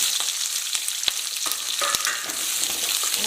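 Mustard seeds, curry leaves and onion frying in hot oil for onion sambar, a close, busy crackling sizzle with sharp pops from the seeds and light stirring throughout.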